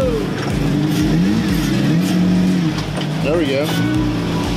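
A Jeep Wrangler JL engine revs hard while climbing rough off-road ground at Iron Mountain Park, its pitch rising and falling in loud surges, with people talking close by.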